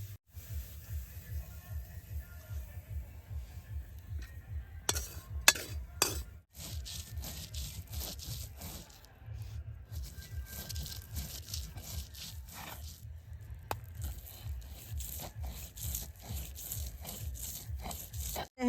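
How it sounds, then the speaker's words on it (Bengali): Coriander leaves being ground into a paste, with rhythmic scraping and crunching strokes that repeat steadily, close by and fairly quiet, broken by a few brief pauses and clinks. "এখন আমি দইনা পাতাটা বাইটা নেব।"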